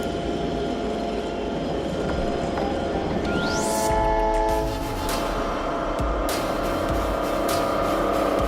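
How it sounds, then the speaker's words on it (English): A snow plow train moves along the rails with a continuous heavy rumble, then its horn sounds loudly from about three seconds on in sustained tonal blasts over the running noise, with no voices. "The train can move an entire wall of snow if needed"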